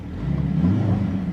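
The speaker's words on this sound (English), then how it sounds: "There you can also hear how the sound actuator plays together with the rear exhaust" A Mercedes-AMG revving, its sound actuator blending with the rear exhaust into a low, swelling rumble that builds and eases over a short moment.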